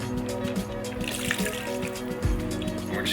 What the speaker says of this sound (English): Throw that marinade in there.